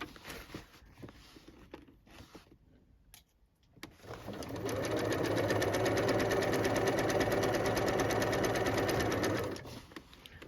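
A sewing machine runs a seam on an upcycled denim jacket, starting after a few quiet handling sounds and then stitching loudly and steadily for about six seconds before stopping.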